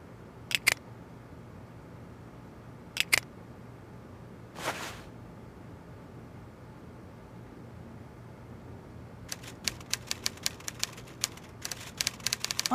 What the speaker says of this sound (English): I say, Poirot, he seems to be typing up quite a storm